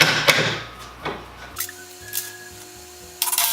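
Wooden craft cart being assembled as 2-inch screws are driven to fix swivel casters to a 2x4 base: a few separate bursts of tool and wood noise, with a sustained tonal drill-like whine through the middle and a louder clatter at the end.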